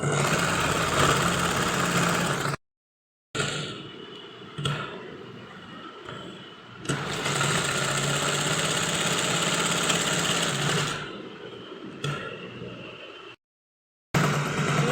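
A sewing machine stitches a kurti seam with a continuous whirring hum in long runs, broken by brief pauses and short gaps between bursts of stitching, close and steady.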